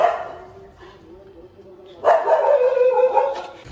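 A single dog bark or short yelp heard indoors near a home theater setup, loud and brief about midway, with someone talking around it.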